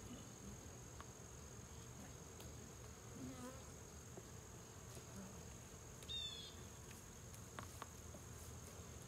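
Honey bees buzzing during a September hive inspection, a faint steady drone of insects throughout with a few brief sharper buzzes passing close.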